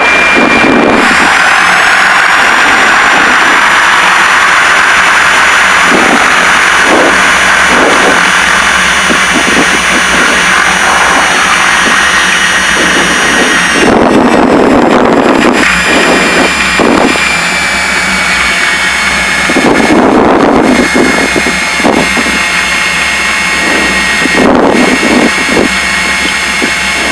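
Inside the cockpit of a twin-engine Piper Seneca on its takeoff roll, a loud, steady engine drone fills the scene with a high whine, and brief radio chatter and clicks cut in now and then.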